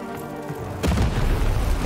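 A cannon fires in the video game Lost in Random, a sudden deep boom that cuts in and leaves a loud rumbling roar lingering behind it.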